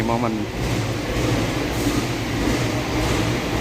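A vintage locomotive hauling the Tawang Alun passenger train in Indonesia gives a steady low rumble and hum, heard from a station waiting area, with a short tonal whine at the start and a voice talking briefly.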